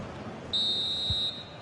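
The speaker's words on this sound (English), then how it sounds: "And the final whistle is sounded." Referee's final whistle in the football video game FC 24, a single sustained high-pitched blast of about three quarters of a second, clear and loud over faint background crowd noise.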